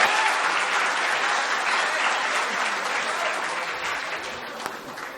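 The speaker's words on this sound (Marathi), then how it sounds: "हा टाळ्यांचा पॉज एवढ्या वेळात जाणं गरजेचंच होतं" An audience applauds at a Marathi ghazal recital, a dense, steady round of clapping that begins loud and slowly tapers off over several seconds.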